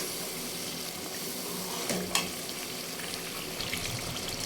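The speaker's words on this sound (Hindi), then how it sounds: "इसको मैं तकरीबन 3 से 4 मिनट तक भूनूंगी ताकि कद्दू का जो कच्चापन है वो सारा" Ground pumpkin fries in a pan in a steady, soft sizzle, with a brief clink of stirring near the middle and no talk.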